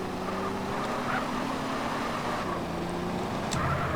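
A car driving in SA-MP, a steady engine drone with a low hum running evenly at moderate loudness, rising slightly at the very end.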